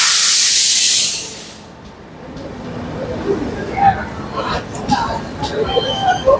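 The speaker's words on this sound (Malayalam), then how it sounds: "അപ്പോൾ ഇതാ ട്രെയിൻ വരുന്നുണ്ട്." A passenger train arrives at a railway station. A loud burst of hissing air opens, then fades into a low rolling rumble, with people talking nearby over the noise.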